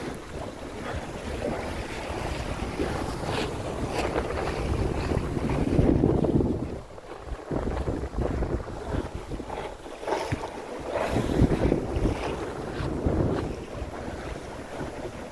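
Steady wind rushes over a sailboat under way in roughly 10 knots of breeze on a cold day of about 40 degrees, with water sloshing along the hull and microphone buffeting that swells and eases, no voices.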